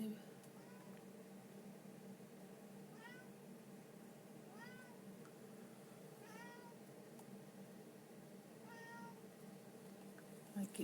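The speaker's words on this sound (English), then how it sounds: "My kitty's meowing" A cat meows repeatedly, around half a dozen short rising-falling cries spaced a second or two apart, faint and somewhat distant over a low indoor hum.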